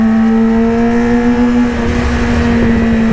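A Yamaha R6 sport motorcycle engine hums steadily up close while riding, with a strong sustained tone and no speech.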